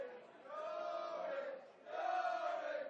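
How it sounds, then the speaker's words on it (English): Supporters in the stands at a football match, a reserve grand final, raise a sustained chant of crowd voices in two swelling waves, moderately loud and fairly near. "A couple of their supporters who perhaps have warmed up before they got here starting to give voice to their feelings."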